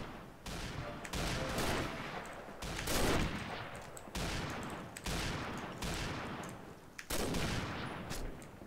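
Dense gunfire in the shooter game Combat Arms, with rapid automatic bursts and fusillades arriving in several loud clusters separated by brief gaps.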